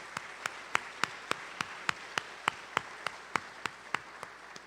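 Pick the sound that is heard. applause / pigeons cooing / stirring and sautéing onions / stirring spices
applause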